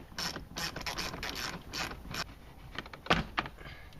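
A socket ratchet clicks rapidly close by while working on the interior of a 1999-2004 Jeep Grand Cherokee during sunroof assembly replacement, a steady run of pawl clicks over about four seconds.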